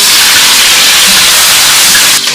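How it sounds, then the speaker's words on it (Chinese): Garlic slices, ginger and green and red peppers sizzle steadily in hot oil in a wok, a loud, dense hiss that holds evenly throughout before dropping off abruptly at the very end. "热锅放油，下入蒜片、炒姜、"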